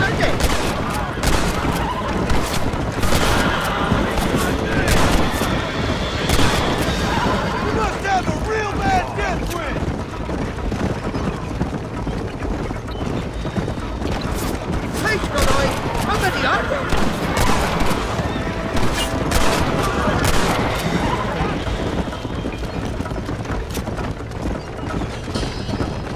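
Bursts of gunfire crackle steadily throughout a Red Dead Redemption shootout, repeated shots mixed with horse hooves and ambient game noise, with character voices talking over the action.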